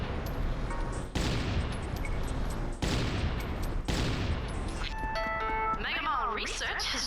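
Burst gunfire in the Judge Dredd video game, with loud dense volleys broken by brief gaps, then chiming electronic tones and game effects toward the end.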